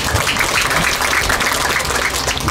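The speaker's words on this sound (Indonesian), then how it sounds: "tepuk tangan dulu untuk Pak Bupati" An outdoor crowd gathered for officials applauds the regent, a dense, steady wash of many hands clapping at once, loud and continuous with no talk on top.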